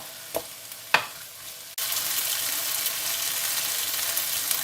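Onions frying and caramelising in a pan alongside courgettes, a couple of sharp spatter pops early on, then a sudden steady loud broadband sizzle that continues without talk.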